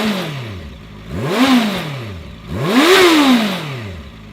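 Keeway Benda LFS 700 motorcycle engine revving hard twice while riding, each burst rising in pitch then falling away, loud and close with no talking.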